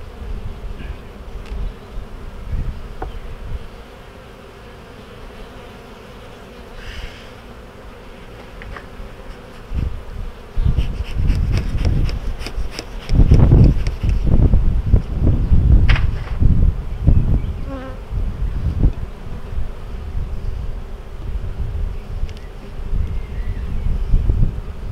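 Steady buzzing of many honey bees close by at an opened hive, rising louder midway with wind gusts and handling noise, no talking.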